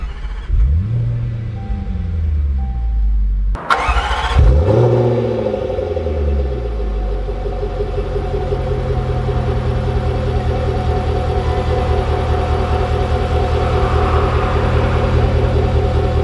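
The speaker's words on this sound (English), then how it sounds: "let's take this Velar SVA out and see how it drives" 2020 Range Rover Velar SVA engine cranking and firing up, with a sharp start burst followed by a loud rev that settles into a steady, deep idle rumble close by.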